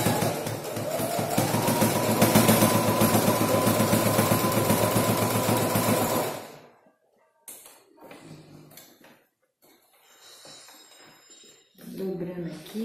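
A sewing machine stitches fabric for a multifunction wallet, a steady mechanical whir with rapid needle taps for about six seconds before stopping, followed by quieter handling noises.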